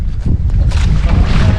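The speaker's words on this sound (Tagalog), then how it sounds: "umulan na rin at saka lumakas na rin yung hangin" Strong wind buffets the microphone aboard a small fishing boat out on the water as rain begins, a loud, rough rushing roar with gusting surges throughout.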